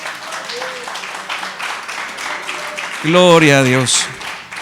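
A church congregation applauds during a Spanish-language sermon, a steady patter of clapping under the room, while a voice rises in a loud exclamation partway through.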